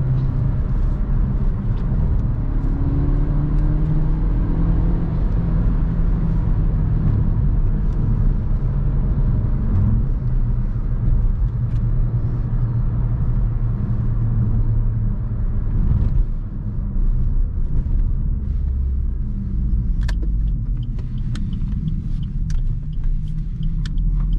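Suzuki Vitara 1.4 Boosterjet engine pulling at full throttle on a twisty road, a loud continuous drone with rising and falling engine tones and a few sharp knocks near the end.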